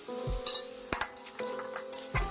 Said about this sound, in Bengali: এবার এটা দিয়ে আমি ভালো করে নাড়াচাড়া করব।